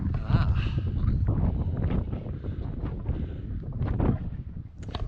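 Wind blows hard across an exposed mountain walking path in Snowdonia near Rhyd Ddu, a steady rough roar buffeting the microphone throughout, with a person's voice mixed in.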